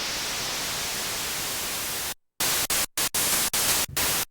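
Noise from the noise depth setting of a Korg Prologue-16 synthesizer: loud, steady broadband static hiss that cuts out briefly, then returns in several abrupt on-off bursts separated by short silences.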